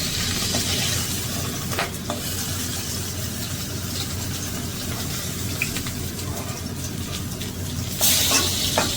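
Tangra fish frying in oil in a kadai over a lowered gas flame, giving a steady dense sizzle with scattered sharp pops and spatters, close and fairly loud, with no talking.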